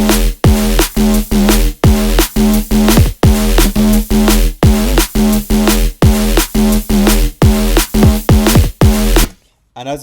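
Filthy drum and bass synth bass patch built in Vital from sine waves with stereo effects, loud gritty bass stabs pounding in a fast driving rhythm with sharp pitch-dropping hits, cutting off abruptly near the end.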